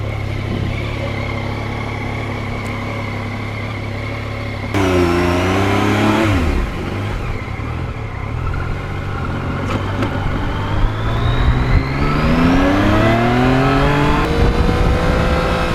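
A Yamaha MT-09 naked motorcycle engine on the open road, a loud close steady drone that jumps up as the rider revs and accelerates, then climbs through rising gear pulls.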